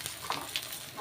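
Black cumin and dried red chillies dropped into hot oil left from frying snakehead fish give a soft, faint crackling sizzle, brief and close.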